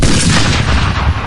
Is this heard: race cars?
no